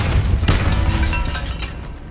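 A Depulso spell effect from the video game Hogwarts Legacy: a single close, loud burst with a sharp onset and a booming low end, decaying across about two seconds.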